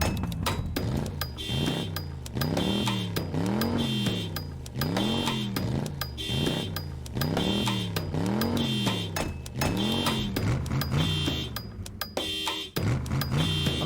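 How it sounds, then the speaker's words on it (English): Car motor noises arranged into a musical loop, a repeating rising and falling engine whine pulsing in a steady rhythm with a sharp high tone layered over it, loud and continuous. "Motor noises."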